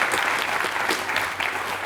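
A studio audience at a quiz show claps for a contestant after a rapid-fire round, a brief burst of dense, even applause heard near.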